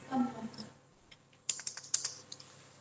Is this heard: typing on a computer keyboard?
yes